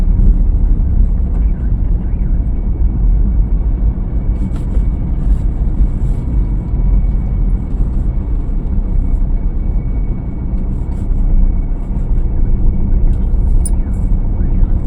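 A steady, low engine rumble of a car driving, continuous and fairly loud throughout with no pauses.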